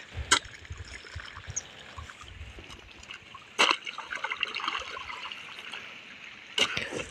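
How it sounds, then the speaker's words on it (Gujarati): Irrigation water flows and trickles into a field channel on a farm in Gir, a soft steady babble broken by a few sharp splashes or knocks. "દીપુ આજ પાણી વારે છે."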